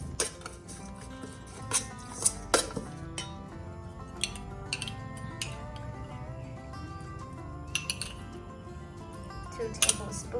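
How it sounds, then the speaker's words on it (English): Shallots and chili paste with fresh garden chilies are worked together in a bowl for a Thai banana blossom salad, giving soft squishing with light clinks of a utensil, close and quiet over a low steady background. "Mix the shallots with chili paste and some fresh chilies from the garden."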